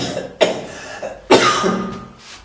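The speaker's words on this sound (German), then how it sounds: "Husten. Ich huste." A person coughs twice nearby, a short sharp cough followed by a louder, longer one that trails off into breath.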